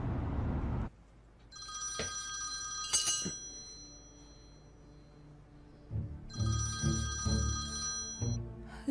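A telephone rings at home in two bursts of bright, trilling electronic ringing, the second after a pause, over faint room noise with a few clinks and thumps.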